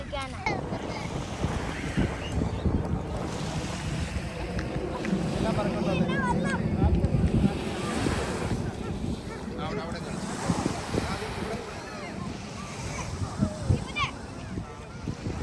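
Waves wash steadily onto the shore at Al Heera Beach, Sharjah, under gusting wind noise, a continuous rushing surf with faint voices in the background.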